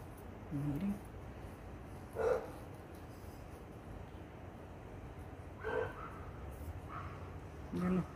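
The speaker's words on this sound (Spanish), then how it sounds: "Ya los perritos están enojados." Small dogs barking angrily at a distance, a few separate short bursts spread across the stretch over a steady background hiss.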